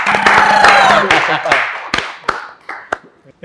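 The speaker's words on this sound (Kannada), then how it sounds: "ಪೃಥ್ವಿಗೊಂದು ಸ್ಪೆಷಲ್ ಚಪ್ಪಾಳೆ ಹೊಡಿರಿ" A group claps for a young participant in a Kannada singers' music and fun-games session, a burst of loud, close claps with cheering that thins into a few scattered sharp claps and falls quiet.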